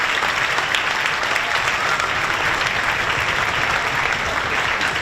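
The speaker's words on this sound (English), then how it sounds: "Let's give Miss Eitzen a huge round of applause." A concert audience at a school band, orchestra and jazz band show applauds the announcer with steady, full, continuous clapping throughout, close and even, with no talk over it.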